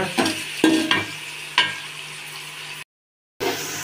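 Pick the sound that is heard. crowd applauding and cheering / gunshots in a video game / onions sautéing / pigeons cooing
onions sautéing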